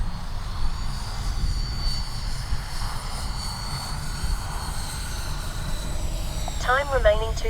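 A HobbyKing Viper 64 RC electric ducted-fan jet whines steadily overhead with a shifting high-pitched tone over wind noise, and a brief rising electronic beep near the end.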